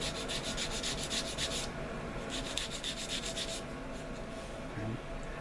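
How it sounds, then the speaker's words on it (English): Sandpaper rubs back and forth over the notch of a wooden arrow shaft in steady, close strokes, with a brief pause partway through before the rasping resumes. "start to kind of refine it a little bit with some sandpaper"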